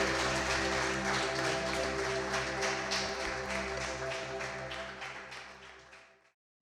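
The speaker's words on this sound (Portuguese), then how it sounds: "Aplauda Jesus bem forte" A church congregation applauds during a Sunday service, with dense, sustained clapping over a steady background music drone, loud at first and then fading out over several seconds.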